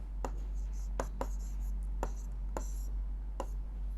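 Pen strokes writing a one-word answer during a Class 8 Sanskrit lesson, heard as several short, sharp scratchy taps spaced about a second apart over steady low hum, fairly close and quiet.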